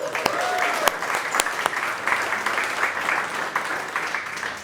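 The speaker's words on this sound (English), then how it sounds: "maybe a round of applause for Martin, who just cleared his CTA review" An indoor audience at a Salesforce technical architect talk applauds steadily for several seconds, with sharp individual claps standing out above the crowd's clapping.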